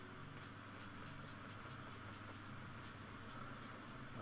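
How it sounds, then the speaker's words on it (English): NYX Matte Finish setting spray misted close up in a steady, loud hiss that runs the whole time, with faint rhythmic pulses riding on top and no voices. "It's a matte finish spray."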